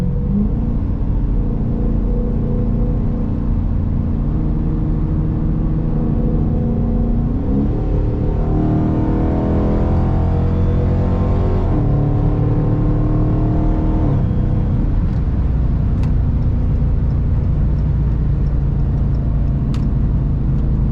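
A Chrysler 300 engine accelerates hard through a run of gear shifts, a loud, steady close rumble rising in pitch and dropping at each shift, with no voices.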